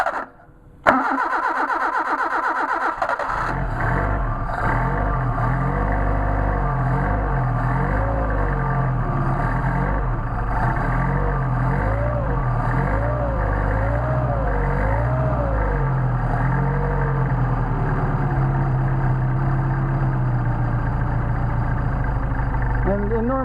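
A Mercedes 190SL engine with Solex carburetors and the choke pulled cranks briefly, catches, and settles into a steady, loud idle with wavering revs, close by and continuous throughout.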